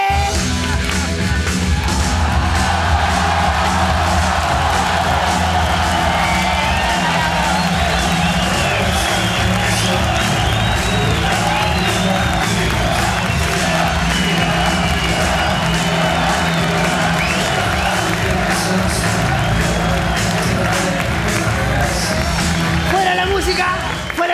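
A children's audience at a telethon stage show cheers, yells and claps continuously, a loud sustained crowd roar with whoops throughout.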